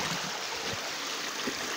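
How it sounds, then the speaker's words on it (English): Water pours steadily down a small waterfall over exposed bedrock at a prospecting spot, a continuous broadband rush and gurgle with no pauses, fairly close and even in level. "See it coming down. This is our bedrock kind of waterfall here."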